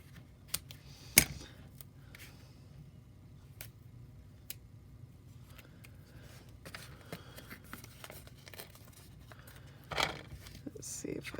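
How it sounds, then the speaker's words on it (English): Snips cutting strips of paper during a craft project, a few sharp isolated snaps spread over a quiet background with faint handling noise. "Get my snips out."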